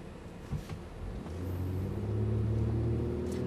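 An Infiniti JX gathers speed from inside the cabin, a low, muffled engine rumble swelling steadily with rising drone and road noise, fairly quiet overall.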